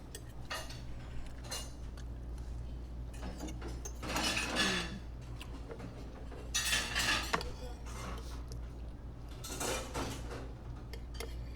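A restaurant table being bussed: dishes and cutlery clatter and clink in bursts against a steady background hum, with a few louder stretches of clanking.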